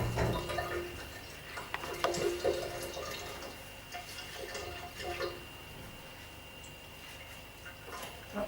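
Salmon being rinsed for gravlax under running water, a soft faint trickle with scattered drips and small splashes against a sink, quiet and close, no talk.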